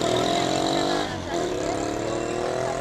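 A motorcycle engine revs loud and sustained with a steady droning roar, dipping briefly before climbing again, up close with no voices.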